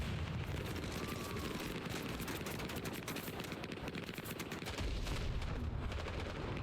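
Incoming mortar fire in the Vietnam-era shooter Hell Let Loose: Vietnam, a dense steady clatter of gunfire and blasts heard at a distance, with a heavier thump near the end.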